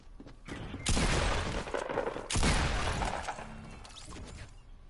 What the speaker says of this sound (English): there's someone in my house and I got a shotgun